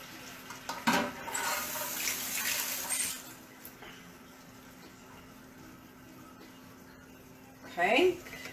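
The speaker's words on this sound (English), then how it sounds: "I'm gonna just pour it all in there, the juice and everything." Canned pineapple tidbits with their juice are poured into a cooking pan for sweet and sour chicken, a splashy liquid gush at the start that fades into background noise, with a voice speaking briefly near the end.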